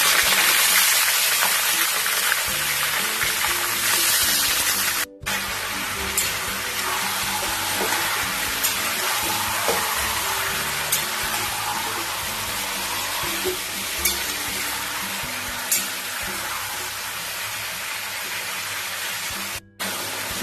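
Chicken pieces frying in hot mustard oil with whole garam masala, a loud, close, continuous sizzle with small crackles, briefly cut twice by short breaks.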